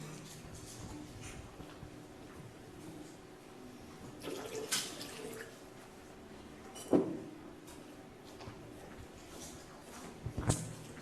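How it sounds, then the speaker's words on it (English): Tap water from a bathroom sink being poured, a quiet running trickle with a few louder splashes and gurgles near the middle and end, no talking. "I'm pouring water for my family in Florida"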